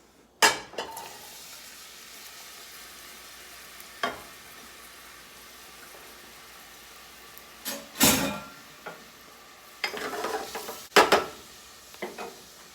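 Onions and garlic go into hot, shimmering oil in a pan, with scattered clanks of a utensil against cookware over a faint sizzle. Bursts come irregularly, close by, with no speech.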